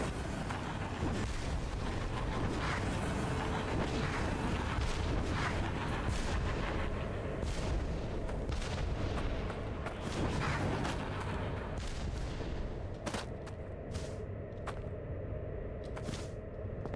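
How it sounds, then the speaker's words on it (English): Artillery fire in a video game: a loud, dense, continuous barrage of heavy booms and blasts that rolls on steadily for the whole stretch, thinning slightly toward the end. "Fucking military grade artillery."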